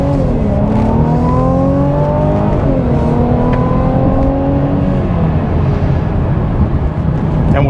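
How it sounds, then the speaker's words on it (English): A 2021 Mercedes-Benz E350 4Matic sedan's engine accelerates to merge into traffic, a loud, steady rising whir heard from inside the car with the pitch climbing through gear changes. "Now you could hear the engine."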